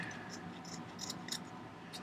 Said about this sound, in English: insert my scissors into that and cut that edge